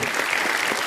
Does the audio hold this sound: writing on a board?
no